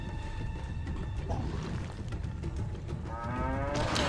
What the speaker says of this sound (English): Yo, a cow.